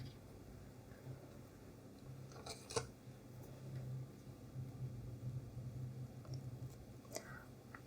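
Scissors snip thick knitting yarn on a hat with ears, giving a couple of quick faint clicks close by over a low steady background rumble.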